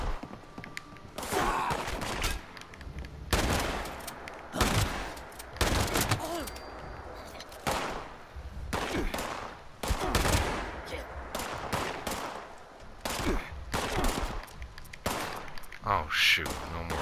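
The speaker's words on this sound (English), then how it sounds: "time to test the shotgun" Repeated shotgun blasts in Fallout 76, a series of loud sharp shots spaced a second or two apart, with a voice speaking between some of them.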